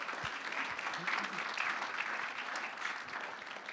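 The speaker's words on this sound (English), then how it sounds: "round of applause, please" Applause from a conference audience at MIT's New Space Age Conference, a steady dense wash of clapping that fills the hall at moderate loudness for the full stretch, with no break.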